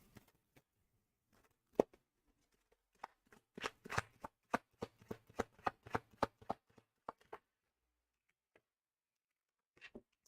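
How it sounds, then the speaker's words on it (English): Tarot cards are shuffled by hand in a quiet room, a run of crisp irregular riffling snaps clustered mid-clip, with a few scattered taps before and after, close and soft. "so let's grab some cards"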